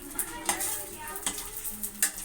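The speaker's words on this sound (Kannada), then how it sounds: "ದ್ರಾಕ್ಷಿನೂ ಸಹ ಫ್ರೈ ಆಯಿತು" Raisins fry in ghee in a pan with a quiet sizzle, broken by a few light scrapes and clinks of a spoon stirring against the metal.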